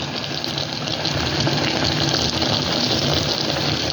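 Water poured into a cooking pot of fish paksiw with okra, a steady, loud rushing gush that fills the whole stretch without a break.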